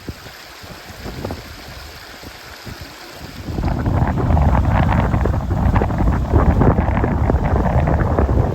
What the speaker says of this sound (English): We've got a proper brook now.